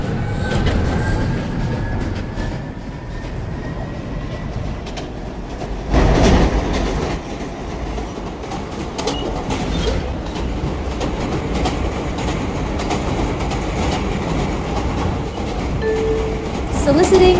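An airport-bound Y express train on the Rock Dove City line rides the rails with a steady low rumble and clickety-clack of wheels, a louder surge of rail noise in the middle, continuous and close from inside the car.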